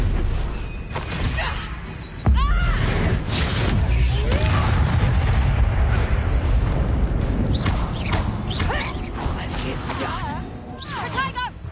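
Spell explosions from the Confringo fire spell in the Hogwarts Legacy video game, a sudden heavy boom followed by rumbling thuds and crackling combat effects, loud and close, with character voices shouting over the action.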